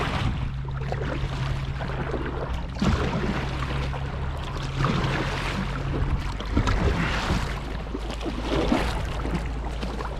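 A Pelican Catch PWR 100 pedal kayak moves steadily through shallow, grassy water, with continuous splashing and rushing water and a low hum running under it, close and fairly loud throughout.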